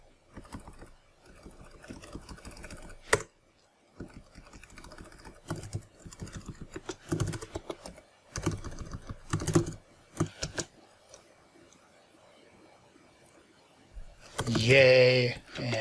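Bursts of typing on a computer keyboard, close and crisp, in irregular clusters separated by pauses, with some speech near the end.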